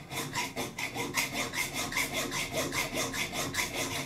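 Rhythmic back-and-forth strokes of a hand saw cutting wood, a steady rasping pulse about twice per second, close and clear with no talking.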